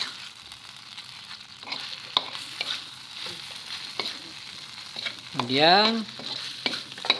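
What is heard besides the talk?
grated ingredients being sautéed and stirred in a pan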